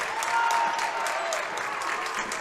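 Home crowd at a PIAA District 4 girls 3A basketball game cheering and applauding the Bloomsburg Lady Panthers late in the contest: dense, steady clapping filling the gym, with a whistle tone briefly cutting through.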